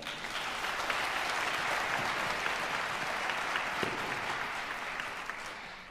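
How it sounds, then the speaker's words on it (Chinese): A concert hall audience claps for the performers and the Philadelphia Orchestra after a violin competition finals concert, a sustained, even wash of applause from a large crowd, fairly distant and steady, with no speech. "请再次把掌声献给他们"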